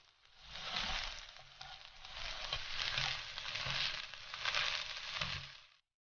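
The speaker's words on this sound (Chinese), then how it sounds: "最后把韭黄加进来，" Soy sauce noodles with yellow chives stir-fried in a hot wok, a steady broadband sizzle with rhythmic swells as the ingredients are tossed, close and continuous for about six seconds before cutting off.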